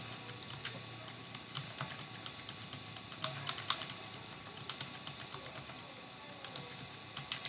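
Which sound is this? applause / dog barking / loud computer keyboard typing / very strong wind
loud computer keyboard typing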